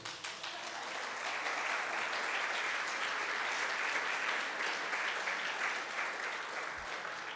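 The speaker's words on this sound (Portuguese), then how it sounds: "Agora pode aplaudir." A church congregation claps together in a long, even burst of applause, heard at a moderate distance and unbroken from start to finish.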